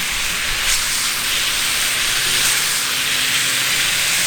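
Top sirloin steak with fajita seasoning and green onions sears on a homemade discada, giving a loud, constant sizzling hiss with no pauses.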